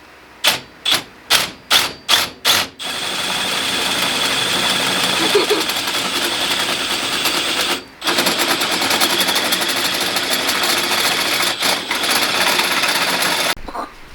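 Drilling out a hole while installing a big brake kit on a Subaru WRX: a loud run of rapid mechanical bursts, then a sustained harsh power-tool whine that cuts out briefly and restarts before stopping.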